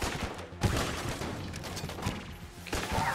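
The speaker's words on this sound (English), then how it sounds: "Nice explosion." An explosion in the shooter game Enter the Gungeon bursts out amid a dense, continuous barrage of gunfire and crashing impacts, with a sharp blast near the start and another heavy hit toward the end.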